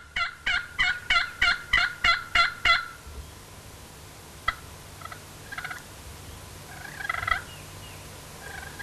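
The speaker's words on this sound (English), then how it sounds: "The guys heard one gobble off in the distance, and Jesse's trying to get another with some aggressive calling" A wild turkey gobbler calls during a spring youth-season hunt, a rapid burst of about eight loud, rattling gobble notes up close, then quieter scattered clucks and yelps from the bird that follow.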